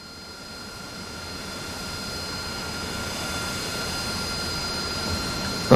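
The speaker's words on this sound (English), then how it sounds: "Do a proper runway takeoff." An aircraft engine roars through a proper runway takeoff in a flight-sim video game, a loud continuous drone that swells gradually and holds steady, with no voices over it.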